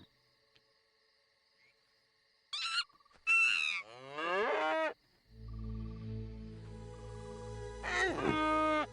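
Game cow creature from the 2001 god game Black & White lowing in several drawn-out moos, loud and close, over a low game soundscape with a last bellow near the end.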